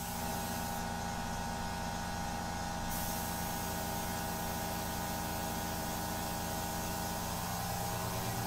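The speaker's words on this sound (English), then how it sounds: "The airbrush is singing, which is good." An airbrush sprays India ink with a steady, dense hiss over a constant low electrical hum from the compressor, unbroken and close for the whole stretch.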